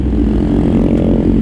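A Kawasaki Z800 motorcycle's engine and exhaust rumble steadily up close, a deep, round, bassy drone holding constant throughout.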